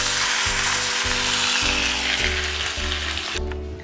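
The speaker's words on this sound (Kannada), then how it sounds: "ಇವಾಗ ಈ ಒಗ್ಗರಣೆನ ಸಾಂಬಾರು ಒಳಗಡೆ ಹಾಕ್ಕೊಳ್ಳಿ." Hot tempering poured into Obbattu saaru, a loud, dense hiss of sizzling close up that fades slightly toward the end, with a low background hum.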